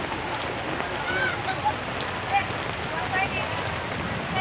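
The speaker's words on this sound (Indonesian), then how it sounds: "Berhubung hujan di mana-mana." Heavy rain falls continuously in a thick, close hiss over a traditional village market in Indonesia, with occasional faint chirps and sounds of activity beneath it.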